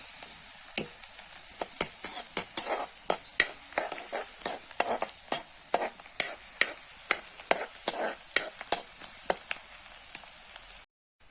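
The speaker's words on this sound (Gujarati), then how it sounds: "हवे हूँ मींगड़ी कांदो नाखी दऊं" Chopped onion sizzling in hot oil with mustard seeds in a home kitchen pan, stirred by a utensil; a continuous bright sizzle punctuated by regular sharp scraping strokes, close and alone, ending abruptly.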